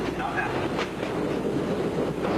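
An MBTA subway train on the Boston T rumbles steadily with a constant roaring, windy rush and faint rattles throughout, fairly loud and close, with no clear talk over it.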